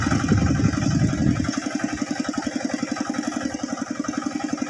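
A farm tractor engine chugs nearby with a rapid, steady knocking rhythm, first loud and rough, then settling into an even, pulsing idle-like run.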